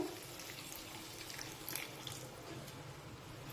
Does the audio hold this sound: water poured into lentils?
yes